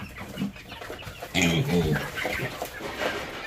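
Chickens cluck and squawk on a Vietnamese rice-farming homestead, a few close bursts mixed with people talking and splashing water nearby.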